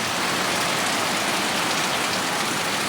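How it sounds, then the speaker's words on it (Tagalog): Heavy rain pours down steadily, a dense, constant hiss filling the whole scene without a break. "Grabe, ang lakas ng ulan."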